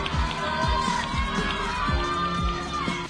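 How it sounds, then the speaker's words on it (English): Studio audience at a TV show finale claps and cheers, with excited shouting and screams layered over steady, dense applause throughout. "Everybody is applauding and some people scream her name."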